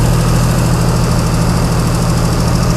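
A Chrysler Slant 6 generator engine idles loud and close, a steady low rumbling drone with an even mechanical throb and no voices over it.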